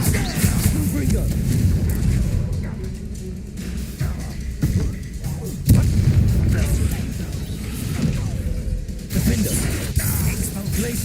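Explosive booms and shattering crashes from a Confringo fire spell in the Hogwarts Legacy video game, loud and dense within continuous battle noise and game music, with a voice calling out spells.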